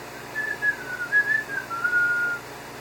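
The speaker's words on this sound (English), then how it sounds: "a security guard whistled." A single person whistles a wavering, melodic tune for about two seconds, clear and close against a quiet background with no talking.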